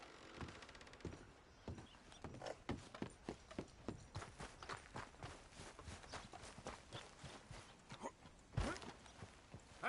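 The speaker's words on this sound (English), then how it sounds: "That's a nice horse" Horse hooves clip-clop at a walking pace in Red Dead Redemption 2, a quiet, steady run of hoof falls with an occasional louder, sharper strike.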